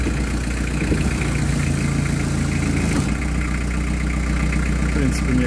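Engine idling steadily while the lever of an R80 hydraulic distributor is tested, a constant low mechanical hum with vibration running throughout at moderate level.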